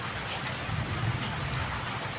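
Heavy monsoon rain pours down around a small shop and home, a close, steady hiss of drops on surfaces with a low rumbling undertone, constant and unbroken throughout.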